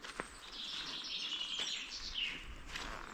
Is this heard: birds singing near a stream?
yes